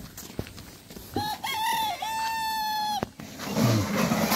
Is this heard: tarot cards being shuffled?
no